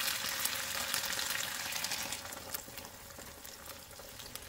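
Chicken sizzles in a pan during a Hokkien noodle stir-fry, a steady close crackle of hot oil with scattered pops, fairly loud and even throughout with no talk.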